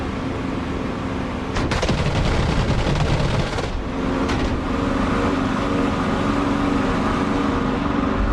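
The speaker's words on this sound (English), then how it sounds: "Oh yes, the T-55s are shooting there." T-55 tanks firing in a combat flight-sim game, heard from a jet cockpit as a few loud bursts of rattling gunfire over a constant heavy engine roar, with no talking.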